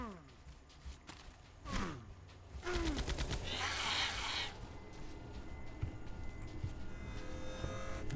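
Turret gunfire in the Entropia Universe video game: bursts of synthetic rapid shots and impact effects during a hunt, mixed with game sounds and some speech.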